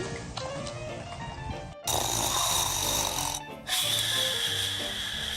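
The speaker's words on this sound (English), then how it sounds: "No one could stand Dad's snore, except for this furry ball." A sleeping father snores loudly and raspily, with long, rough breaths in a slow rhythm close by.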